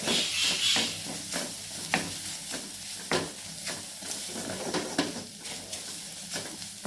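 Mushroom fried rice with pepper powder is sautéed in a pan: a soft continuous sizzle with regular scraping strokes of a spatula, fairly quiet and close.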